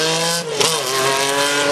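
An Audi rally car roars past very loud and close, its strained engine note holding steady and then dropping in pitch as it goes by.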